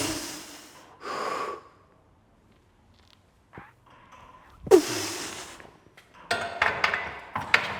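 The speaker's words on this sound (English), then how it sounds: "Big breath to brace." A weightlifter draws a big bracing breath before a heavy 270 kg squat: a sharp, close inhale, then quiet, then another forceful gasp followed by scuffing and clanking movement.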